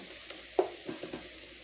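A spoon stirs a spiced bean gravy curry in a pan after chili powder has gone in, a few soft scraping strokes over a faint sizzle, close and fairly quiet.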